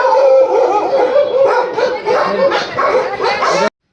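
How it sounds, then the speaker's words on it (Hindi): Dogs barking and yelping loudly at close range, a rapid run of sharp barks mixed with whiny howling yips, continuous for several seconds before cutting off abruptly. "तेरे डॉगीज भौंकते हैं ना।"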